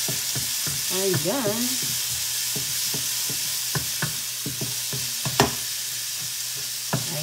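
Plenty of garlic frying in olive oil for vegetable pancit gisado gives a steady sizzle under a brief spoken remark, punctuated by repeated sharp utensil taps against the pan.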